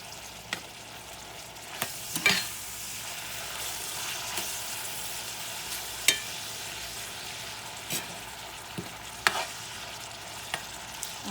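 Ground beef seasoned with salt, pepper and garlic powder is stirred in a pan, a soft steady sizzle with occasional sharp scrapes and knocks of the utensil against the pan.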